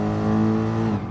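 Race car engine at Le Mans roaring steadily close up, dropping in pitch as the driver shifts down into second gear, revs briefly sagging near the end.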